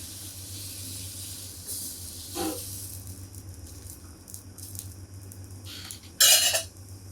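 Dosa batter spread thin over a hot pan for chatti pathiri gives a soft, continuous hiss over a low hum, with faint scraping strokes and a brief bright metallic clatter near the end.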